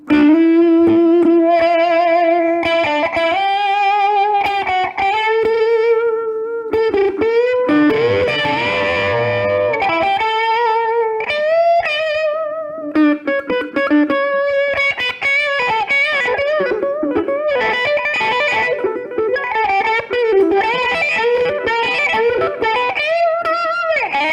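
A guitar plays funky melodic lines through a T-Rex envelope filter pedal, each note sweeping with a vowel-like, robotic wah quality; no talking.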